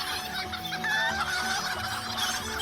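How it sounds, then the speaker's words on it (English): Chickens clucking in the Lord of the Rings Online game world, a steady run of close, overlapping hen clucks and squawks over a dense ambient background, with no talk. "Yes, chickens, yes, I know."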